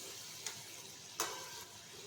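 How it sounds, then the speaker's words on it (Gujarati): Bhakarwadi frying in oil over a low flame, a steady soft sizzle with two brief sharper crackles, close and fairly quiet, no talking. "તો આપણે અહીંયા ધીમા તાપે તળવાની છે"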